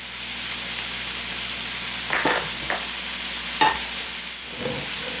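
An egg and Parmesan are mixed in a bowl, a quiet steady hiss of background with a few soft clinking strokes of the utensil near the end, no voices.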